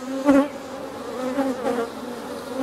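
Honeybees from an open, defensive hive buzz loudly and steadily close by, a dense drone with individual bees swelling and passing near.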